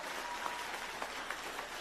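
Applause for an award winner at a school closing celebration, a faint, even patter of clapping from a small audience with a few sharper claps standing out.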